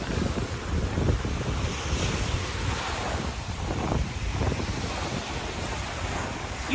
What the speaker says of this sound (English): sound of the waves? It's just wonderful.